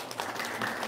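A short burst of applause from a live audience at an Indonesian religious gathering, steady and fairly faint, with no voices standing out.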